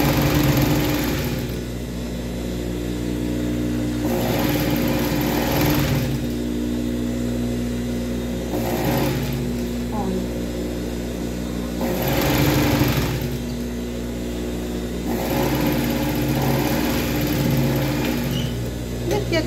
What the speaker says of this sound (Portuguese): Agora a gente passa nosso overlock com o nosso zigue-zague